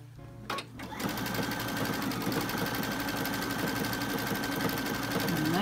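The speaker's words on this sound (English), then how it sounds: "And then I'm going to stitch that. I want a triple stitch on this one." A sewing machine running a triple stitch on a pillow of shirt fabric and batting, a steady, close, fast mechanical whir and needle chatter that starts after a brief handling noise and holds evenly.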